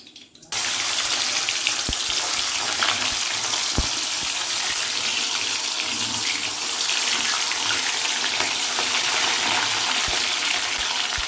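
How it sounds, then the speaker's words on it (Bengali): Paneer frying in hot oil in a pan, a loud broad sizzle bursting in after a brief quiet moment and holding steady to the end, with a few faint knocks. "এবার পনির ভাজবো পনিরটাকে"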